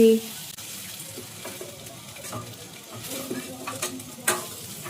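Vegetables frying and being stirred in a pan while making a Mexican dish; soft sizzling with intermittent scraping and stirring clatter, fairly quiet, no talk.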